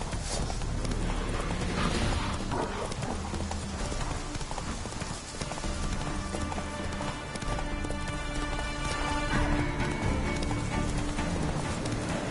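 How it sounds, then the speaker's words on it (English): Horse galloping in The Witcher video game, a loud continuous run of rapid hoof clip-clops lasting throughout, close up with game ambience beneath. "Run, Roach"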